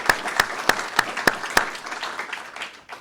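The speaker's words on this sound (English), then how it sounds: "let's just give a round of applause for everybody in the room." During a news conference on pedestrian safety, a room claps, opening with about six sharp, evenly spaced claps close by over softer scattered clapping that gradually thins out.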